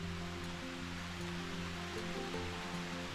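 Steady morning rain patters near a small stream beside a little house in the countryside, a soft continuous wash of drops and flowing water with no voices.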